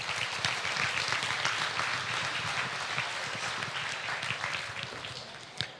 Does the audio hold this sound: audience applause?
yes